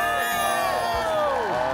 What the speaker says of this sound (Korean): 우리 하하에게 박수 한번